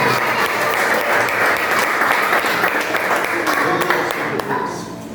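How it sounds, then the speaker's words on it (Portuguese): A church congregation meeting in a garage applauds loudly and steadily through the whole stretch, dense clapping with crowd noise that tapers slightly at the end. "E se pode aplaudir forte o nome dele."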